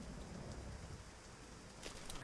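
Heavy rain pours steadily on a night visit to a house, a dense, continuous hiss close by with no voices, and a brief brighter burst of drops near the end.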